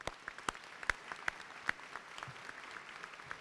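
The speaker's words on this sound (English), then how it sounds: "Please, let's give them a round of applause." Audience applause at a medical school white coat ceremony, heard as a soft, fairly distant wash of clapping with a few sharper individual claps standing out, fading gradually over a few seconds.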